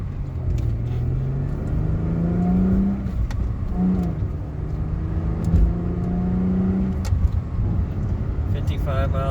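A car being driven, its engine rising in pitch and dropping back as it shifts through the gears, heard from inside under a voice.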